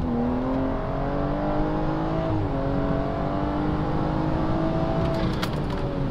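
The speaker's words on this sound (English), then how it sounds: "So I did want to give you guys one more pull. Just kind of entering the highway." A BMW 340i accelerating hard onto a highway, the engine rising steadily in pitch with a loud close in-cabin roar and a shift near the middle, no talk.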